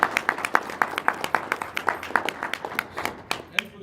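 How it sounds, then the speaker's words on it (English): Applause from a small audience at a retirement ceremony: a few people clapping in steady, separate claps that thin out and stop near the end, with a faint voice as it fades. "How about another round of applause,"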